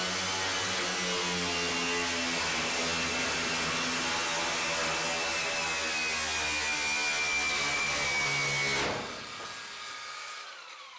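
An angle grinder cuts into the water tank of a narrowboat with a loud, continuous high whine that holds steady for about nine seconds, then abruptly winds down into a quieter fading hum.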